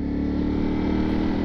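A Ducati Streetfighter V4S engine idles with a steady, loud low hum and vibrating drone, holding an even level from start to finish.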